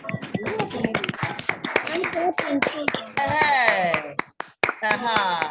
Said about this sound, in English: So please unmute and let's clap again.